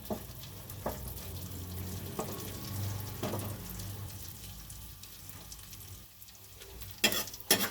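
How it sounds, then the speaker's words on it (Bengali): Dry fruits are stirred and lightly fried in ghee for payesh, a soft, steady sizzle near the pan with occasional spatula taps and scrapes, ending in a louder burst of crackling and clatter, with no talking. "একটুখানি ড্রাই ফ্রুটটাকে আগে নেড়ে নিলাম, হালকা করে একটু নেড়ে নেব"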